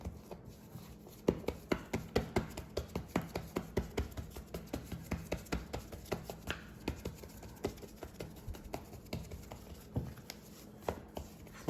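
Hands press out homemade pizza dough on a countertop, making a long run of soft, quick, rhythmic pats and thumps, a few per second, close up and moderately quiet, with no talking.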